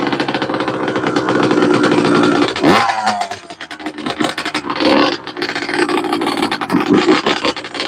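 An EGO electric mini bike ridden on a motocross track gives off a loud, continuous rough scraping whine and rattle for most of the stretch, with a brief shift in tone near the middle before the steady noise resumes.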